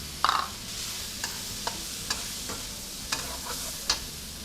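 Hong Kong-style noodles with ham are stir-fried in a pan for a Chinese New Year dish, a soft continuous sizzle with a spatula scraping and tapping the pan every half second or so, close and quiet, no voices.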